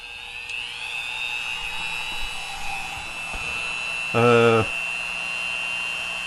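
A small hobby drill whines steadily while drilling a plastic part of a Moebius 1/1000 USS Kelvin model kit, with a louder, harsher burst of about half a second near the end; no talking.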